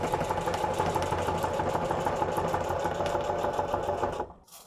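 A heavy sewing machine runs fast and loud with a steady mechanical chatter, then stops abruptly near the end.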